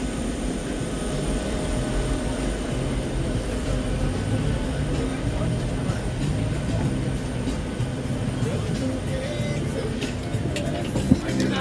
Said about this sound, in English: First time for me on the Southwest plane.